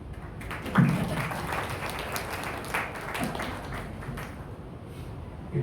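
An audience applauds at a kavi sammelan, a Hindi poetry gathering in Karnal, Haryana, a moderate, fairly distant clatter of clapping with a sharper burst near the start, continuing at a steady level.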